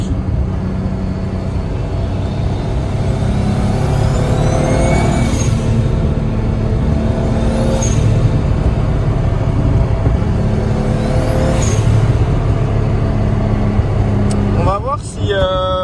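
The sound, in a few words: car engine with new Garrett GT3076 turbo, possible air leak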